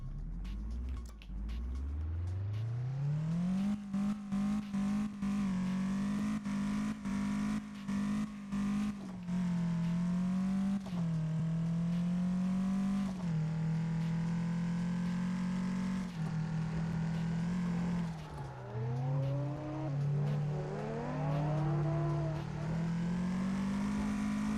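A carbureted kei truck engine in CarX Drift Racing climbs in pitch and then drones on, revving up and dipping repeatedly through a long continuous drive, with no talk over it.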